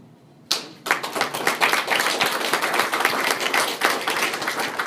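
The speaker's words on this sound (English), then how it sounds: "So this hand of applause is for you." Audience applause at a political campaign kickoff event, starting abruptly and building into steady, dense clapping from a crowd that continues loudly to the end.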